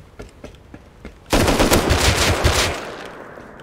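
AK rifle fire in a video game: a few scattered single shots, then a loud, close sustained automatic burst lasting over a second before it fades out.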